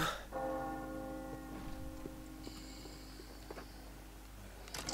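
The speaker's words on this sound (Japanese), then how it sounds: "やっと鐘が鳴ったよ。" A bell tolls in the Resident Evil 4 video game, a few resonant rings with long sustained decay over quiet game ambience, followed by a brighter tone partway through.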